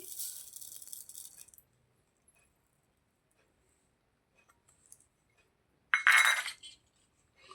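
Sugar tipped from a steel bowl for a ripe banana fritter batter, heard as a short gritty rattle at the start, then near silence, then a second bright metallic clinking rattle close by.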